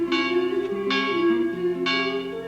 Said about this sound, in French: La cloche se mit à sonner